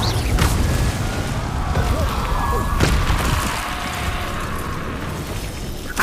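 Fire spell cast in Hogwarts Legacy, heard as a burst of roaring flame amid close, continuous game sound effects.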